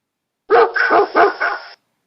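A dog barks three or four times in quick succession, close and loud, then stops.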